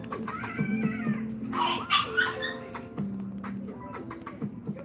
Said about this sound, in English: I heard a dog freaking crying.